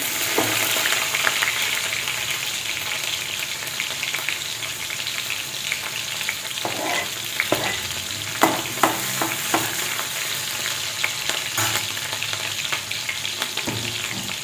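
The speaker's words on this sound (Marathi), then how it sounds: "जिरी टाकल्यानंतर लगेच हिरवी मिरची टाकणार आहे" Green chillies and cumin seeds fry in hot oil for a bhindi sabzi, a steady close sizzle with scattered sharp pops and crackles of stirring, no voices.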